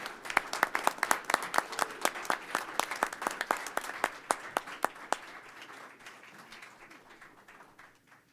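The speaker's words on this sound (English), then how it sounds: "Let's give a big round of applause," Applause at a Princeton Board of Education meeting, a modest scattered clapping with distinct individual claps near the start, thinning and fading out toward the end.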